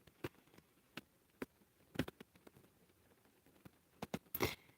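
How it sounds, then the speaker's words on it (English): Sparse, irregular taps and patters of light rain, quiet and close, with a louder cluster of drops near the end. "Now it's starting to rain a little harder."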